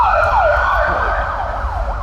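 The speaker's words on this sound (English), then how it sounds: "Ambulance." An ambulance siren wails loudly and steadily nearby, its pitch sweeping up and down in repeated cycles over a low road rumble.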